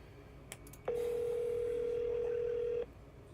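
A telephone ringing tone sounds once during an outgoing call: a single steady electronic beep lasting about two seconds, fairly quiet and clean against faint background hiss.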